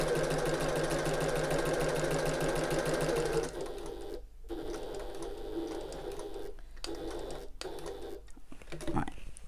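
Sewing machine stitching along a drawn line on a zip box tote bag, a steady rapid mechanical whirr for a few seconds, then quieter, broken bursts of stitching with short pauses between them.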